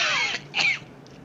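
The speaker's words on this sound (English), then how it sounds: "There goes that cough again." A man's cough, two short raspy bursts close up followed by a faint third, with quiet room tone between.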